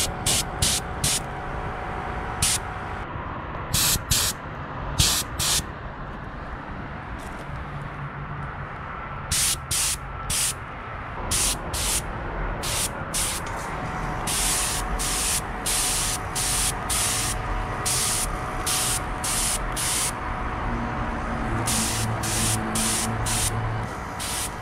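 A spray gun sprays Cerakote coating onto a dirt bike clutch cover, hissing in repeated bursts, some short and some sustained, loud and close over a steady mechanical hum.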